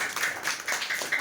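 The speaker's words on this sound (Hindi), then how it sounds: "तो इसके लिए भी जोरदार तालियां" Audience applause at a Hindi-speaking awards gathering: a short, close burst of rapid, uneven clapping with no voices over it.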